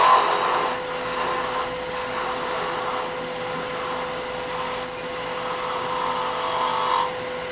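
A wooden Christmas ornament finial being tapered on a lathe, a steady scraping, rasping cut with a constant motor hum beneath, brief dips where the tool lifts off, close and continuous without talk.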